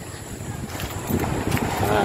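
Steady sea breeze buffeting outdoors near the coast in Barangay Dakil, Mauban, Quezon, a constant rushing roar that swells slightly toward the end.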